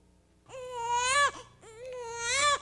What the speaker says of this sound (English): The first sound a newborn makes occurs on the first exhale.